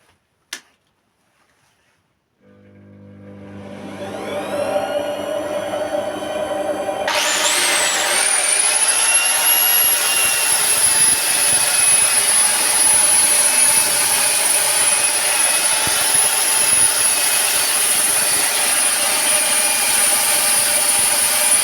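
Wood lathe switched into reverse while a deep bowl is sanded across the grain with P80 grit, a motor whine that spins up from silence and settles into a loud steady high-pitched drone.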